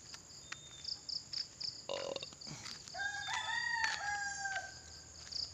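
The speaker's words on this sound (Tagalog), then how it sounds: "Natilaok na yung manok." A rooster crows outdoors in a quiet rural yard, a rising and falling call at moderate distance heard alone, with faint bird chirps and insect buzz in the background.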